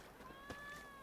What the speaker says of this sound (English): Well, that was a cat.